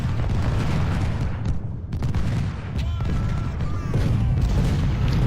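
Dense, continuous musket volleys and booming artillery from an Ultimate General: Civil War battle at Crampton's Gap, a loud rolling roar of overlapping shots with no pauses.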